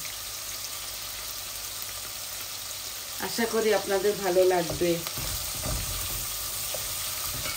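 Bay leaves frying in hot oil in a pan while fish curry is cooked, giving a steady sizzle throughout with a brief stretch of someone talking in the middle.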